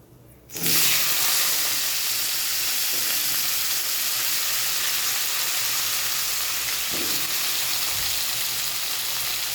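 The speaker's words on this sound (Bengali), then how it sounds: "আমি আলুগুলিকে ফ্রাই করব, একটু নেড়ে নিলাম।" Potatoes hit hot oil in a pan where fish was fried and cumin tempered, bursting into a loud, steady sizzle that holds for several seconds, with faint stirring knocks beneath.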